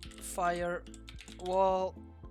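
Someone types a Linux firewall command on a computer keyboard: a short run of soft key clicks, close and fairly quiet, while a person talks over them.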